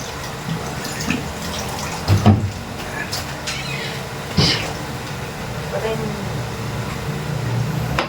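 Water is poured into a cooking pot of carp adobo, with short splashing bursts against a low kitchen background and a voice talking nearby.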